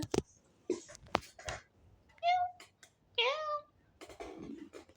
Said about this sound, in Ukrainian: мій кіт